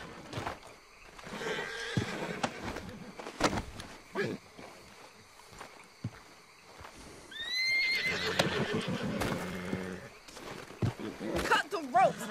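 In a video game, horses neigh and whinny in sharp rising cries amid clip-clopping hooves and clattering noise. A voice talks over much of it.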